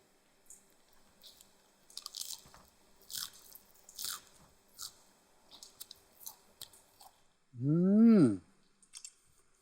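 Fresh European salad lettuce from an aquaponic farm is bitten and chewed close up, making a series of crisp, wet crunches and softer chewing sounds, with a short voiced exclamation near the end.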